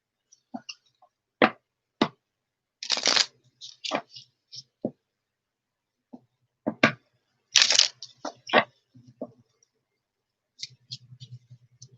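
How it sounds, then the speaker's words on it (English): Tarot cards are shuffled in scattered bursts of riffling, slapping and clicking with quiet gaps between them, close and fairly crisp. "No, they want a few more shuffles."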